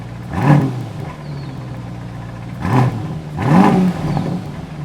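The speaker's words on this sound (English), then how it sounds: "let's give this car a rev because the RPM is already down" An Aston Martin DBX707 SUV engine idles, then revs up in three short bursts, each rising and falling back to a steady idle rumble, close by.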